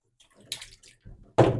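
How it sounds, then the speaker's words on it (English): A Pinter home-brewing component is rinsed under running water, short splashing spurts that end in a louder close gush. "Quick rinse off."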